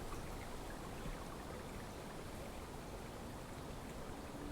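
Water rushes softly and steadily, a faint continuous hiss with no voices or other sounds.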